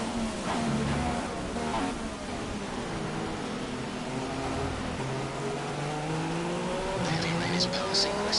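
In the F1 2016 racing game, a Haas car at the Chinese Grand Prix aquaplanes and snaps into oversteer. A steady engine drone carries through, with tyre squeal rising near the end.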